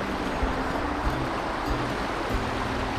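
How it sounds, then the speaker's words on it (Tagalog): A strong water current rushes past in a steady, unbroken wash of noise that stays loud and close for the whole stretch. "Maagos na yan. May agos na yan."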